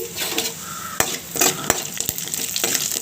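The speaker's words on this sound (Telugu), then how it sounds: "ఆయిల్ అయితే బాగా వేడయింది ఇప్పుడు ఇందులో చూడండి జీలకర్ర మినప్పప్పు పచ్చనగపప్పు వెండి మిర్చిని వేసుకోండి" Cumin, urad dal, chana dal and chillies dropped into very hot oil for tempering, giving a close crackling sizzle with a few sharp spatula clicks against the pan.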